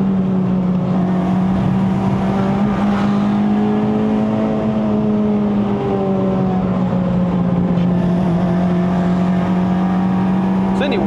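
A 2008 Honda Civic Type R FD2R engine holds a steady high rev around 5000 rpm on a mountain road climb, a loud continuous drone with slight pitch dips, heard from inside the cabin while people talk over it.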